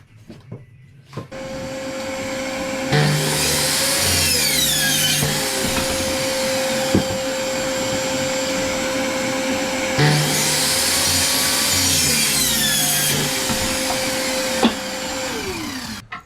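A drill with a pilot bit bores pilot holes into timber in two long runs, a loud whining motor with grinding bite that starts, holds steady for several seconds, and winds down, close by with no speech.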